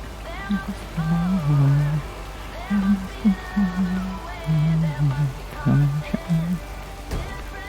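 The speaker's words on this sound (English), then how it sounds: "Doesn't the rain noise also bother the recording?" Steady rain patters on a surface as a soft, continuous wash, mostly masked by a person talking throughout.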